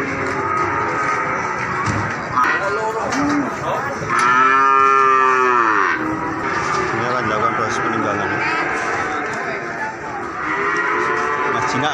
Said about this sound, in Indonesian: Karena ini sapi betina dan memang jenisnya adalah FH atau disebut sapi perah.